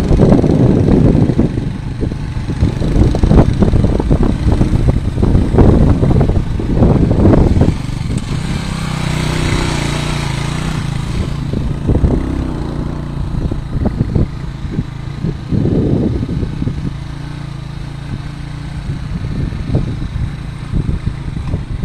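Motorcycle riding along a mountain road, its engine loud and close with a steady buzzing drone, and rough bursts early on that settle into a smoother run.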